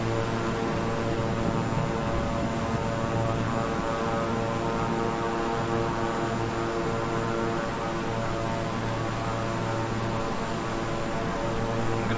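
Twin turboprop drone of a King Air 350i in Microsoft Flight Simulator, on approach from Denver toward Cheyenne with flaps partly down, a steady loud hum with tonal layers that stays even and close throughout with no talk.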